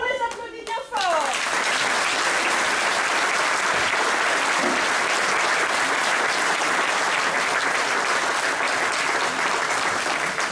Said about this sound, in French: C'est de vous les enfants, on les applaudit bien fort.